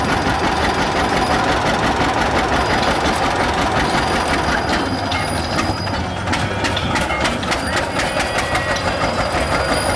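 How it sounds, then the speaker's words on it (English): A steam tractor engine at an antique steam show chuffs past in a steady, fast rhythmic knock, loud and close throughout, with clanking mechanical noise layered over it. "Watch the steamer go past here."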